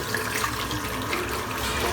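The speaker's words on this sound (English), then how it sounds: "just rinse the brush out" A shaving brush rinsed under a running tap, a steady broadband hiss of water splashing into a sink, close and continuous with no talk.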